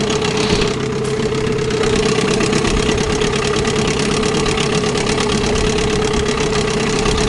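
Boat outboard motor running steadily after striking something underwater, with a continuous droning hum and a persistent mid-pitched whine, loud and close throughout with no talking.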